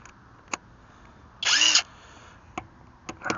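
A VTEK V6309R impact wrench with an 18 socket loosening a tight nut fires one loud short burst lasting about a third of a second, with a few faint clicks before and after.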